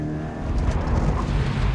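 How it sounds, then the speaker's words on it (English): Race car thrown into a slide across a turntable, a loud, close engine roar with tire scrub and skidding noise building over a couple of seconds, no voices. "So we'll throw the car into a slide first, over the turntable,"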